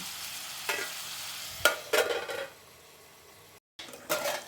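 Tomatoes stirred and cooking in a pan for a Telangana-style moong dal tomato curry, with a soft sizzle and a few scraping stir strokes, a brief pause, then more stirring.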